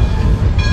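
A passenger train rolls along the rails, a loud close rumble with a steady low drone and faint rattling from inside the carriage, brief and without talk.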